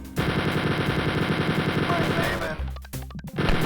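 Rapid automatic gunfire from enemies in the video game Spear of Destiny rattles in fast bursts, with a sharper blast near the end, set under game sound and faint talk.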